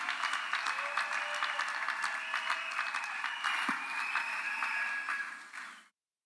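Steady applause from a large crowd at a church wedding, dense and sustained for several seconds before tapering off and stopping abruptly.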